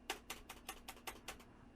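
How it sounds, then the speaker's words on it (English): Keys on a mechanical computer keyboard are struck in a quick run of about seven sharp, clacky presses. The clicks are quiet and thin, as if coming through a microphone, and nothing else is heard. "I have those sweet mechanical keys."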